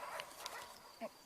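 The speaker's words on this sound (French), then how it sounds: "Désolé pour les aboiements si vous entendez." A dog indoors gives a few soft, muffled barks and yips, faint and distant behind quiet room noise, with one brief louder yelp near the end.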